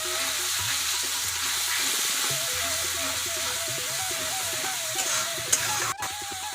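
Spiced masala with yogurt, turmeric, salt, shahi jeera and chilli powder fries in a pan, giving a steady close sizzle with stirring scrapes throughout, briefly rising near the end.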